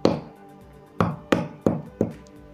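A small tool tip taps lightly on the crystal of a satellite dish LNB, five sharp knocks close to the mic with uneven spacing, each with a short ringing decay.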